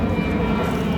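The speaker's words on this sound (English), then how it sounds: "I'll wait till the plane pass." A fixed-wing airplane passing overhead near a Fort Lauderdale waterfront, a loud, steady engine drone filling the short moment without any voices.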